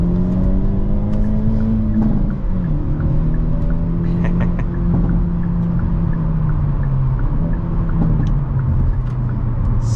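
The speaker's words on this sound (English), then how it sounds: "pops and crackles from the exhaust are just so satisfying" A 2023 Hyundai Elantra with a 6-speed manual gearbox drones steadily while being driven, engine pitch rising and falling with gear changes, with a few faint exhaust pops and crackles and no talking.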